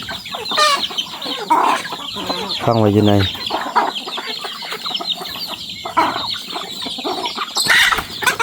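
Farmyard hens cluck repeatedly at close range, with a rooster-like call cutting in midway, while someone talks over the birds throughout.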